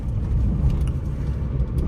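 A 2004 Maruti Suzuki Zen engine running in fifth gear, heard from inside the car as a steady, low, smooth hum with a rumble of road and tire noise.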